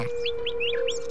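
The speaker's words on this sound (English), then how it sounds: "Birds attract Groovy's attention." Cartoon birds chirp in a quick series of five or six bright, rising tweets over a steady held tone, close and clear with no talking.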